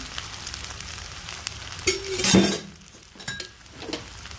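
Sabudana with salt and peanut powder being stir-fried in a pan gives a soft, quiet sizzle, with a few clinks and a brief louder scrape of the spoon partway through.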